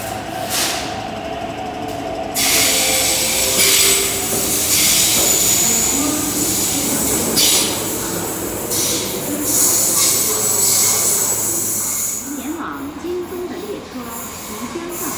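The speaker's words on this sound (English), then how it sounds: "I don't know whether you guys in the video can hear exactly how I'm hearing the train right now" A passing train rumbles and hisses loudly and steadily throughout, with broadband rail noise and a few high squeals; a voice speaks faintly under it.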